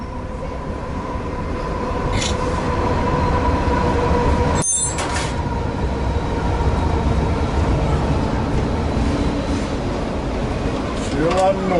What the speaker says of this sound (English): Wait for the train to pass and I'll do this all over again.